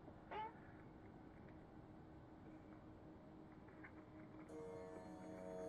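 A house cat gives one short, faint meow near the start, then only a low steady hum remains.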